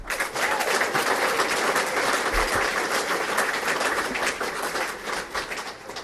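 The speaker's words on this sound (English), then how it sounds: "a big round of applause for those that are here and those that aren't" Enthusiastic applause at a country club awards evening, a dense, lively crowd clapping continuously at close range, with a brief low thump in the middle.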